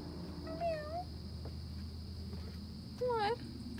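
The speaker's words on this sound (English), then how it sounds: "Meow." A cat gives two distinct meows, the second rising and falling more sharply, over a quiet background hum.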